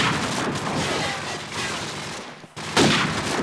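Rapid game gunfire crackles in dense bursts throughout a competitive shooter match, dropping out briefly before a sharp, loud volley resumes near the end.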